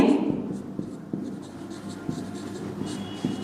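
Scratchy strokes of writing on a board during a maths lesson come in short, repeated scrapes over steady room noise.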